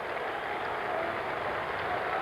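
Steady wash of stadium applause from a large crowd watching the 1978 Commonwealth Games steeplechase final in Calgary, continuous and fairly distant, with no distinct voices standing out.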